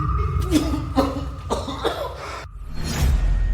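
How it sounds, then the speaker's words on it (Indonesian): An old man coughs in a dramatic scene: a run of four or five harsh, close, loud coughs in quick succession, then a brief pause and a rough wheezy breath. "hanya beberapa patah kata, dan kau batuk seperti ini"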